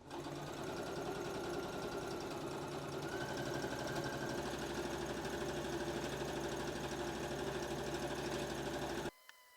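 A sewing machine runs steadily while stitching the ties of a kimono wrap dress, humming and rattling close up for about nine seconds before it abruptly stops.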